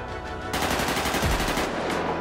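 Rapid bursts of automatic gunfire from a GTA RP video game sound loud and continuous, with a dense rattling stream that kicks in after a brief lead-in and carries on to the end.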